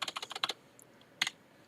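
Quick bursts of keystrokes on a computer keyboard while code is typed, a fast clicking run followed by a pause and a short second flurry, close and quiet.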